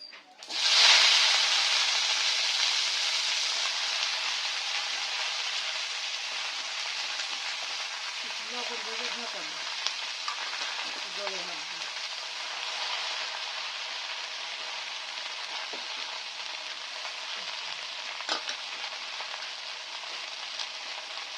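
Chopped pumpkin leaf tips fry in hot oil in a heated wok with a green chilli and five-spice tempering, a steady loud sizzle that bursts in at the start and hisses on throughout, with faint stirring clatter now and then.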